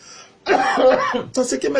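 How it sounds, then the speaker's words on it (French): A dry cough from a man, a short raspy throat burst close to the mic followed by another brief cough-like sound. "C'est une toux, je ne sais pas où ça vient, elle est sèche."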